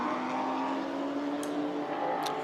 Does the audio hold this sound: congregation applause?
no